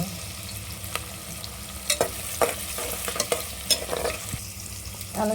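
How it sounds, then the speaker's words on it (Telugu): Khichdi ingredients frying in oil until they change colour, a soft continuous sizzle with scattered stirring scrapes and clicks. "ఇవి కొంచెం కలర్ మారేంత వరకు అలా నూనెలో వేయించుకుంటున్నాం అన్నమాట"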